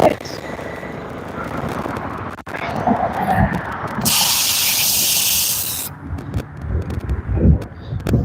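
Paint spray gun blasting acetone to clean itself out, a loud hissing burst lasting about two seconds amid shuffling handling noise and someone talking.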